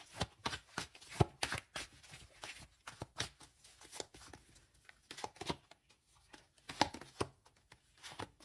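Tarot cards being handled and set down on a table, a series of soft papery riffles, slides and taps coming in irregular clusters, close and quiet, with no voices.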